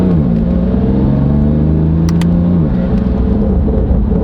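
Chevrolet Corvette engine running loud and steady while driving, a continuous deep rumble with rising and falling revs as it accelerates, heard from inside the car with no talking.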